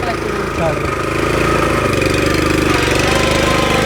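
A heavy tractor engine runs steadily during potato harvesting, with a low, throbbing chug that builds slightly and then holds, loud and close.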